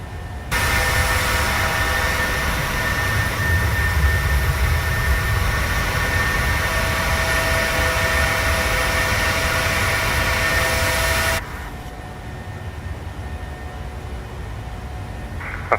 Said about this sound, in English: You will hear the engines respond to it a little bit always, but it's not too bad.